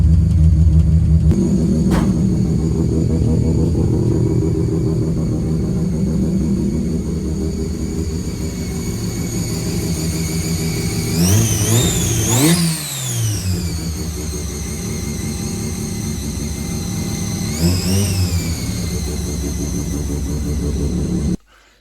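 Close, loud rumble of a 13B turbo rotary engine in a Mazda 323 as the car moves, a steady drone broken by sharp rev swells around the middle and again later, then cutting off at the end.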